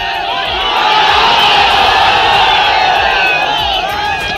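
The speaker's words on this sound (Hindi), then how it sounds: "सिवान में जिस समय भीड़ ने तेजस्वी के लिए शोर किया" A large crowd cheers and shouts for Tejashwi at a political rally in Siwan, a dense, steady roar of many voices with whoops rising over it, loud and sustained throughout.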